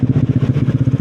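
A motorcycle engine growls through its exhaust pipe, a loud, close, rapidly pulsing throb at steady revs, with no voices.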